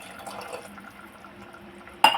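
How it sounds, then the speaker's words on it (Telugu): Water is added to a simmering fish pulusu curry with nethallu (small fish) as a soft trickle and gurgle, then a brief louder splash near the end, all close and fairly quiet. "ఇప్పుడైతే కొద్దిగా వాటర్ కూడా వేసుకుంటారు."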